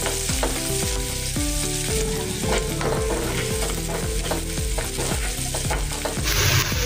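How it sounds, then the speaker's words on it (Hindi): Onions stirred and frying in hot oil with cumin for a potato samosa filling, a steady loud sizzle broken by regular scraping strokes of a spoon in the pan, with no voices. "अभी प्याज डालेंगे, अच्छे से मिक्स करेंगे।"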